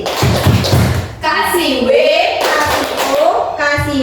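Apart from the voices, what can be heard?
audience doing a rhythmic appreciation clap routine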